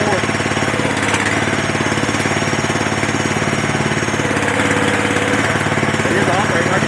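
A mini excavator runs close by with its hydraulics working, giving a loud, steady, rattling engine drone with a rapid mechanical pulse, and a voice speaks faintly in the background.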